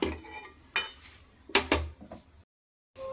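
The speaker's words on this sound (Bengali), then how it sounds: "এবার আমি একটা ঢাকা দিয়ে দেবো সিদ্ধ হওয়ার জন্য।" A metal lid clanks onto a cooking pot of pumpkin-leaf curry in several sharp, close rattles and knocks, then the sound stops.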